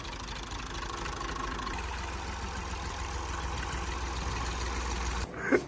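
A tractor engine idles in a steady low rumble that holds evenly at moderate volume, ending with a brief louder bump.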